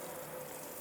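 Water sprays from a pull-out kitchen faucet sprayer into a sink, a steady, even hiss of running water heard close up without a pause.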